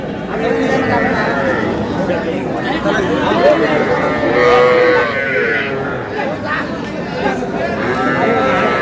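Young bull calves moo repeatedly at a busy outdoor cattle market, with overlapping calls rising above a constant crowd of people chattering and talking throughout.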